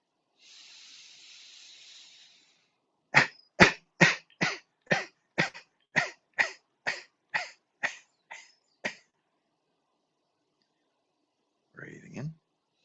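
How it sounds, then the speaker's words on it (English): A series of about a dozen short, forceful coughs in a steady rhythm during a breathing exercise in a healing class, preceded by a long breathy hiss and followed by a brief exhale, close and clear with no talk. "So we're going to cough out"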